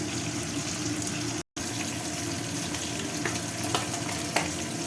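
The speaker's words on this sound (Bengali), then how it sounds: "আঁচ কমিয়ে কমিয়ে ভাজছি।" Fish sizzles in a pan over low heat, a dense, continuous close hiss with occasional faint pops and one brief cut-out.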